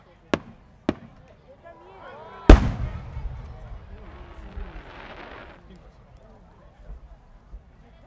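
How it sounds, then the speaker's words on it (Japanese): Several sharp bursts of fireworks at the Omagari fireworks competition in Japan, two quick pops followed by a louder boom that crackles and fades, with voices murmuring in the background. "創造花火、ミデューサ、青"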